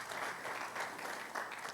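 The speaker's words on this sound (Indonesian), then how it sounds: "Berikan tepuk tangan bagi Tuhan Yesus." A church congregation applauds briefly during an evening worship service, a steady, moderately faint burst of clapping from a crowd.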